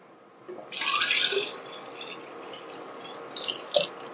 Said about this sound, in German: wir müssen jetzt so viel Wasser reintun, dass das